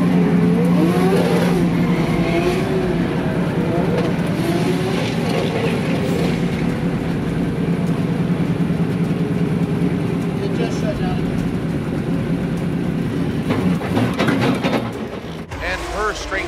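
A Formula Drift race car at a New Jersey event drifts through an outside zone, its engine revving hard and steady with tire noise, while a commentator talks over it.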